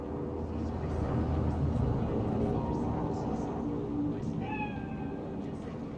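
A cat meows in the Cyberpunk 2077 video game, a short cry over a dense, loud game ambience with a low rumble.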